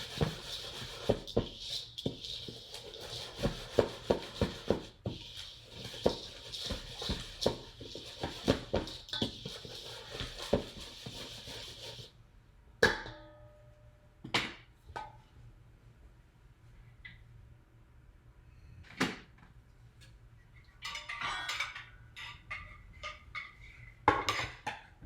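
Granola ingredients are stirred together in a bowl, giving rapid clinking and scraping strokes that come thick and fast at first, then thin out to scattered, separate clatters and taps.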